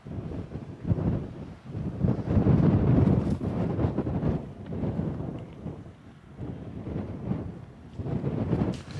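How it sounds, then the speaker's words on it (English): Strong gusts buffet the microphone on top of the Trinnacle, a rock outcrop in the Peak District, in loud, surging low roars that rise and fall for the whole stretch without any speech. "It's a bit windy on here."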